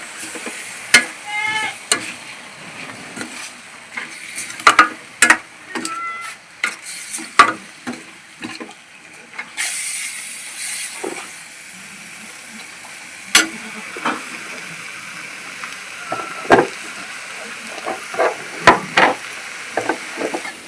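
Tomato and onion sauté in a pan with an irregular run of stirring scrapes and clinks. The knocks are sharp and close, and a soft sizzle with bits of steam hiss sits underneath them.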